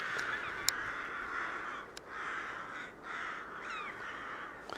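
Birds caw overhead from their nests in trees beside a priory: several harsh calls stand out over a steady outdoor hum, some near and some farther off.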